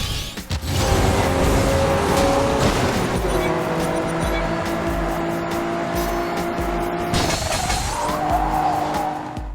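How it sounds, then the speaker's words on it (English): Cars race in the Xbox 360 arcade racing game Blur, with a continuous loud engine drone, screeching tires and skidding, and a sharper squeal late in the run. "Blur is a racing game I'm pretty excited to cover in this video"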